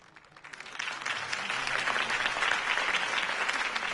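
A crowd breaks into applause after Harvey Dent's mayoral campaign speech in Batman: The Telltale Series, a dense, steady roar of clapping that swells in over the first half second and holds loud and even throughout.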